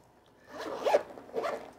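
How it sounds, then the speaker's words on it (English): A zipper on a tattoo artist's equipment bag being pulled open in two close, quick drags separated by a brief pause. "Nice quality zipper."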